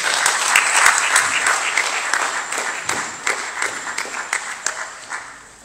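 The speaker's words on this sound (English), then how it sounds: "I think that clap was for me." An audience applauds at the close of an inaugural academic lecture on medicinal chemistry, loud dense clapping that thins into scattered individual claps and fades out.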